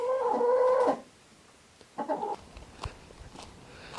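A chicken clucks loudly for about a second, then a second shorter cluck follows, with faint scratching and shuffling noises in between.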